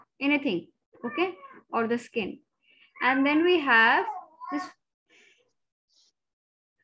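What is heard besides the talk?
cat meowing in the room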